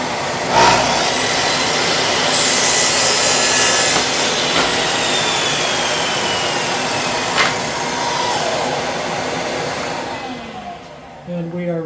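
A power saw runs steadily for about eleven seconds, making a straight cut through a wooden garage door jamb board, a loud continuous whine with a grinding rasp that winds down at the end.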